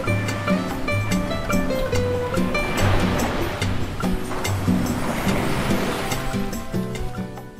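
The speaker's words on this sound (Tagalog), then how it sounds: "pagkatapos ng poolside, nasa harapan lang ang napakabonggang dagat" Sea waves washing onto the shore in front of a beach resort, a steady broad rush of surf that swells and recedes, heard together with a constant tonal hum and faint clicks in the background.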